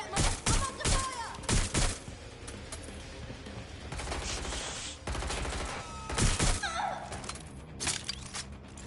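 Gunfire from the Watch Dogs: Legion video game: a series of sharp, loud shots in quick bursts, with mechanical clatter and a short quieter stretch partway through.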